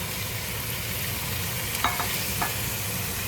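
Tofu sizzling steadily in a hot pan, a dense continuous frying hiss with a couple of soft utensil scrapes and taps as it is stirred, close up.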